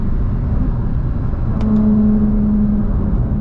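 A 2016 Porsche 911 Turbo in manual mode, downshifted into second gear and pushed hard, fills the cabin with a loud, steady engine roar. A sustained drone lasts throughout, with no voices.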